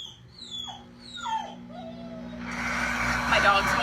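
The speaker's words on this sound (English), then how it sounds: "My dog's whining." A dog whines in a series of high, wavering whimpers, rising and falling, followed by a burst of broadband noise near the end.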